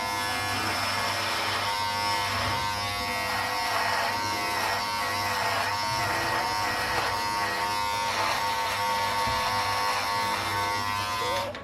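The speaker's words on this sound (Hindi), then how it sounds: "तो अभी मैं शेव कर लेता हूँ।" An electric razor shaves a man's face, buzzing steadily and close up for the whole stretch, its tone shifting slightly as the head is pressed and moved across the skin.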